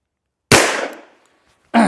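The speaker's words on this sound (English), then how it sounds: "So clearly it will shoot without the magazine in." An FN 510 Tactical pistol fires with its magazine removed: one sharp, loud shot with a short ringing decay, then silence before a second blast starts at the very end.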